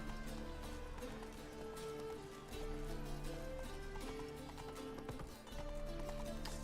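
Galloping horse hooves in The Witcher 3 beat steadily over a dense bed of game music, the clip-clop fairly clear though partly buried in the mix.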